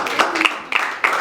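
A brief burst of audience clapping and applause, close and fairly loud, with a few sharp claps that rise and fade over voices in the crowd.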